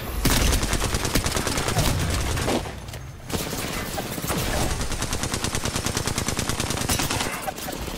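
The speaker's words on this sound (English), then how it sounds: "Those shots didn't connect too much." Rapid automatic gunfire from the video game Apex Legends, dense continuous bursts filling the scene, loud and close, with a brief pause midway before firing resumes steadily.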